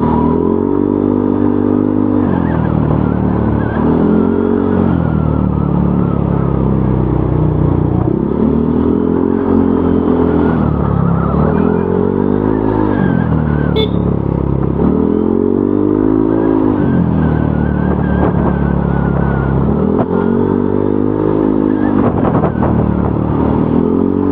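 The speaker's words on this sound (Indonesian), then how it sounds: "jadi seperti itu suara knalpot TZM kalau kita bawa gas pelan-pelan ya" A motorcycle with a loud aftermarket TZM exhaust fitted with a dB killer burbles at low throttle on the road, its deep note rising and falling gently in steady cycles, close by.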